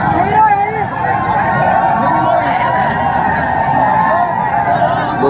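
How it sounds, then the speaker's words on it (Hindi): A dense crowd chatters and murmurs continuously at a kanwar yatra DJ gathering, a loud, steady hubbub of many overlapping voices with no single speaker standing out. "तो आप देख सकते हो कितनी ज़्यादा भीड़ है यहाँ पर।"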